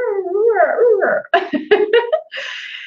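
A voice imitates a large dog lying on the floor and whimpering, with a wavering, whiny moan that breaks into choppy, sob-like yelps and ends on a thin, high wail, loud and close.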